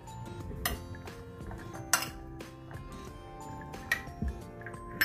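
A spoon clinks softly and irregularly against a bowl while chopped tomato and peanuts are stirred together for peanut chaat, with faint wet squishing between the quiet taps.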